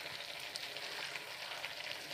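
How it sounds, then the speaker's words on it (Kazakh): Potatoes and pumpkin with salt fry in a pan, giving a soft, steady sizzle that stays faint and even for a couple of seconds with no voices. "Мінекей тұз қосылып, қуырылып жатқан картопымыз бен асқабағымыз."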